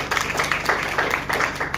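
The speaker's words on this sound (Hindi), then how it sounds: "एक बार जोरदार ताली" Audience clapping in a seminar hall, a short burst of scattered, moderately loud claps with a low hum underneath.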